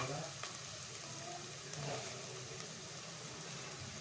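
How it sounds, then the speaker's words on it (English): Black chana curry with jeera and sambar powder fries steadily in a pan, a soft continuous sizzle with faint stirring scrapes running through the whole stretch, fairly quiet and close. "Stir this too very well. Let it fry for a few minutes."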